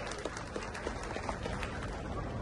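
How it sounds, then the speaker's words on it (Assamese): Crowd applause at a BJP Assam gathering for electing a new state president: dense, continuous clapping from many hands, fairly distant and steady for a couple of seconds. "এটা হাত চাপৰি আমি সকলোকে আদৰণি জনাবৰ বাবে অনুৰোধ কৰিছো"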